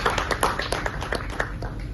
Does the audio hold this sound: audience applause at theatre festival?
yes